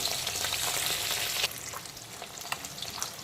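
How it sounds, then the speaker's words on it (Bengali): Parshe fish sizzle steadily in hot oil in a pan, a dense continuous crackle with a brief louder burst midway as the pieces are turned, no voices. "তো মাছের উল্টো দিকটাকেও একইভাবে ভালো করে ভেজে নেব"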